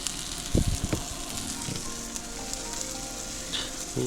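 Breakfast vegetables such as tomato, pepper, cucumber, onion and eggplant fry in a pan in a village home, giving a soft, steady sizzle with a few sharp clatters of utensils near the start.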